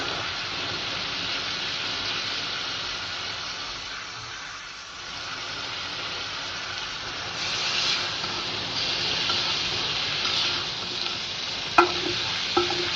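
Spices with a ground paste, turmeric, chilli and coriander powders, salt and green chillies sizzle and hiss steadily in a hot pan, with occasional stirring scrapes and small clinks near the end.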